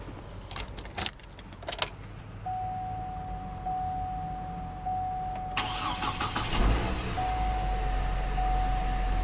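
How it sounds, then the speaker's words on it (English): A 2007 Hummer H3 midsize SUV is started from the driver's seat: a few clicks and chimes, then a steady interior tone and a brief starter crank as the engine catches and settles into a low, close idle. "let's go ahead and start the engine."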